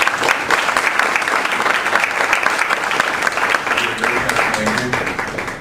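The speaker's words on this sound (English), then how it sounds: "why don't we give Tiffany a big round of applause?" A room full of people applauds Tiffany with dense, sustained clapping at a steady level for several seconds, close and loud, without a break.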